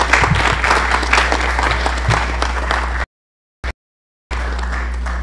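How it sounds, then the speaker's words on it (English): Audience applause fills a historic mosque after an impromptu moment at a Muslim-Christian relations gathering, steady dense clapping over a low hum, broken by two abrupt silent gaps before resuming. "Round of applause, please."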